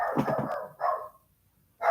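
A dog barks a few times nearby in a short burst, then a pause and one more bark, with no talking over it.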